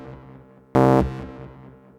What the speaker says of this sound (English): and I'm only sending the distorted version of the E-piano.